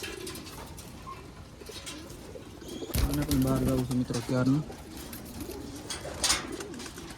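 Pigeons coo in soft repeated low calls from nearby, while a person talks over them and faint outdoor noise continues.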